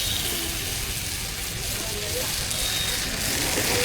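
Fish frying in a large pot of hot oil over a dung fire at an open-air market in India, a loud, continuous sizzling roar close by, with people talking over it.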